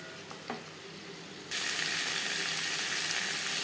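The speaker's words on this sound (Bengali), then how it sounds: "দিয়ে দেবো আলু পেঁয়াজ মশলার সাথে আলু বেশ ভালো করে মিক্সড করে দেবো" Potatoes stir-fried with onion and spices in a pan, a quieter start giving way abruptly to a loud, steady, close sizzle and hiss that continues to the end, with faint scraping of stirring.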